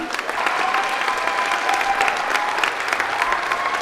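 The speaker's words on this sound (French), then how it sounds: "un tonnerre d'applaudissements plus fort" Dense, sustained applause from a large audience at an eloquence competition final in Bordeaux, steady and loud throughout with crowd noise mixed in.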